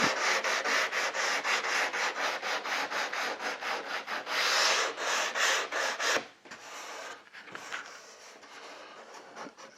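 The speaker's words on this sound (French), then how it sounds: "Un léger coup de ponçage" Light hand sanding on a wooden boat gunwale, a rapid run of rhythmic rubbing strokes that stays steady and close for about six seconds, then thins out into a few sparse, quieter scrapes.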